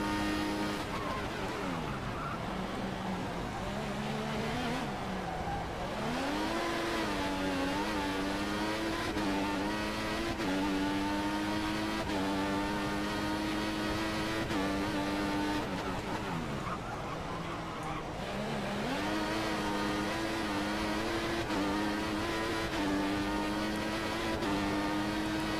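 Formula 1 car engine screaming around Spa in the F1 2014 video game, a continuous high-pitched whine rising and falling through gear shifts over a long stretch, with faint talk now and then.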